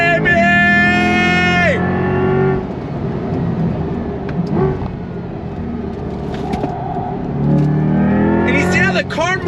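A 2024 Chevrolet C8 Corvette E-Ray, an all-wheel-drive hybrid with carbon ceramic brakes, drives hard, its engine revving up in rising harmonic sweeps at the start and again near the end, with a steadier cruising drone and someone talking in between.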